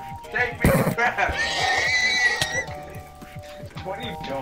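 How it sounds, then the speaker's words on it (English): A horse neighs in a Minecraft game, a bright whinny rising and falling over about two seconds amid clip-clop hoofbeats and busy game sounds, while a player talks over it. "I'm gonna get on my horse."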